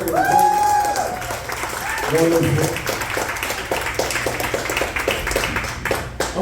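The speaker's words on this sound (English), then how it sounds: "Clap it up for all the comedians that went before." Comedy club audience at a comedy loft breaks into applause after the earlier comedians, steady clapping under a host's voice that speaks over it at the start.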